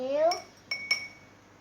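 A spoon clinks against a cup or glass while sugar is added to tea: three sharp, bright metallic taps close by, at moderate volume, with no talking.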